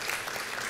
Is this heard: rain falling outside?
no